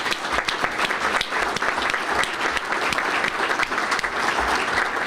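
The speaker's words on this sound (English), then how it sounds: "How about a round of applause for him?" Steady, dense applause from a civic audience honoring the city's youngest-ever firefighter at a State of the City address, loud and sustained throughout with no voices over it.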